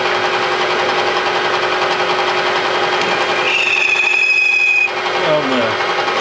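A metal lathe cutting with its tool post left loose gives a steady close mechanical drone. A thin high squeal rises midway, then a tone falls as the machine winds down.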